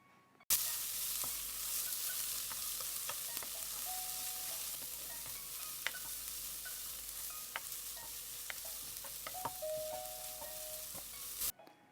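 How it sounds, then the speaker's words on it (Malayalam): Carrots, green peas and sweet corn are sautéed briefly in a pan for vermicelli upma. A quiet, steady sizzle runs throughout, broken by scattered clicks and scrapes of a spoon stirring. No one speaks. "അപ്പോൾ ഇവ ചേർത്തതിന് ശേഷം നമുക്ക് വളരെ കുറച്ച് സമയം ഒന്ന് വഴറ്റി കൊടുക്കാം"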